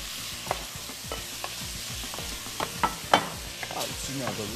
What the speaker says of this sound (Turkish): Soğanlarla beraber onlar kavrulurken